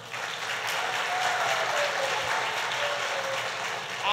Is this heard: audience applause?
yes